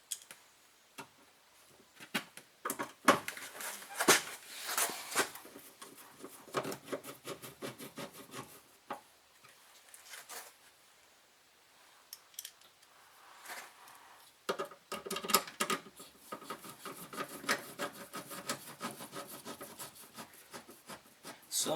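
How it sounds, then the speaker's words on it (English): Screwdriver clicking and ratcheting on the window regulator inside the door of a Dodge Grand Caravan, with small uneven bursts of ticking and rubbing, close and fairly quiet, broken by short pauses. "So much easier with the screwdriver"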